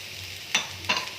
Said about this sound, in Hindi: और तो थोड़ा सा मिक्स कर लेते हैं।